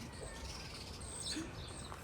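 House sparrows chirp in short, high tweets against a steady outdoor hiss in a kitchen garden, faint and somewhat distant.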